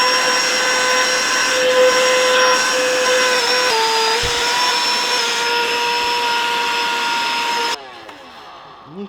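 An Etenwolf Vortex S6 portable tire inflator running in deflate mode indoors in a garage, giving a loud, steady motor whine with a small pitch shift partway through, then cutting off near the end and winding down.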